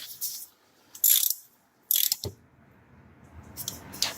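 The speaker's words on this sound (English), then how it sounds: "we're gonna snug those caliper bolts" A ratchet snugs the brake caliper bolts on a 2011 Kia Sportage, giving several short bursts of close, crisp clicking with quiet gaps and a faint knock between them.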